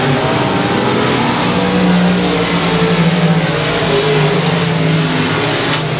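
Race cars roar loudly and continuously around the track at Sabine Speedway, engines droning and revving together in a steady, close, dense wall of sound with no voices.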